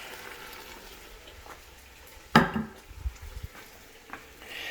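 Scampi ingredients with pepperoncini and green onions being stirred in a pan: one sharp scrape or clack of a utensil, then soft low stirring knocks over a faint sizzle, close and quiet.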